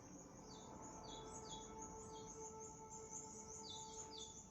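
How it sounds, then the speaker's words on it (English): A flock of birds chirps outside a window in the morning, repeated quick high tweets coming in bursts over a steady faint background hum, fairly distant and soft. "I've got a whole bunch of birds right outside my window."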